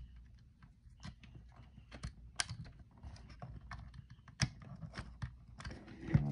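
Keys clack on a computer keyboard plugged into a Raspberry Pi running RetroPie, in an irregular run of close, fairly quiet taps and a few sharper strokes.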